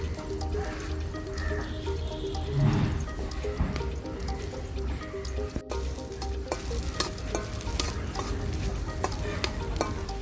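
Onions fry in ghee in a pan, a dense, steady sizzle with frequent spoon stirs and scrapes, close and fairly loud throughout without any voices.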